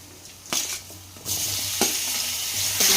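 Pumpkin and onions stirred in a frying pan for a Karnataka-style pumpkin palya, with a steady sizzle and a few loud scraping strokes of the spoon, close up and with no talk.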